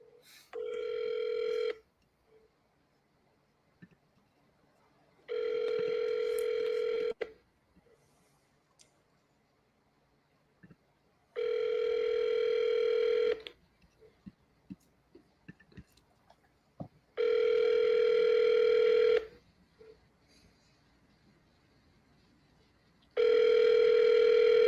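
An outgoing phone call rings back with repeated ringback tones, five long buzzing bursts separated by quiet gaps, heard through a phone with faint clicks and handling noise between rings.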